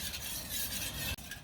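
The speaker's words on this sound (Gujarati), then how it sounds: "હવે આપણે ખાંડ છે તે ઓગાળી લઈશું." A spoon stirs sugar into a glass of water to dissolve it for a mango sherbet, giving a steady scraping swirl throughout with a brief break near the end.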